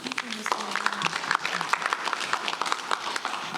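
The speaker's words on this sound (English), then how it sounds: "That wasn't a large clap." Audience at a community meeting giving a brief scattered round of applause, moderately loud clapping with a person speaking over it.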